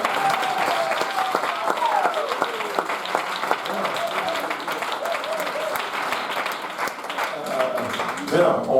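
A church congregation at a Mother's Day service applauding loudly and steadily throughout, dense clapping with some voices mixed in.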